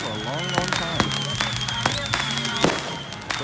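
Backyard fireworks on July 4th in Fort Myers, Florida: a rapid series of sharp bangs and crackling pops, some near and loud, with whistling rockets rising over them while people talk throughout.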